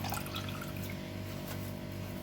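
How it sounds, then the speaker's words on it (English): Water pours steadily into a rich homemade carrot juice made with ginger and lime. The stream makes a continuous, soft splashing that stays even from start to finish, with no talking. "I'm gonna add some more water to this again because it's still rich"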